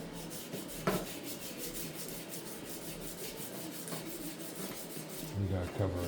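Classic car trim is hand sanded with 220 grit paper, producing a steady, soft rasping rub close by, with a few faint knocks and handling noises toward the end.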